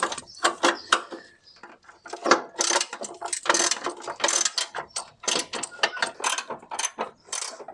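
A hand ratchet loosens 12mm bolts on the front bumper of a Toyota Celica TA22, with rapid bursts of close clicking interrupted by brief pauses.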